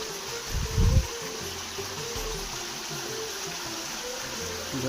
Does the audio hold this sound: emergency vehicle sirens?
no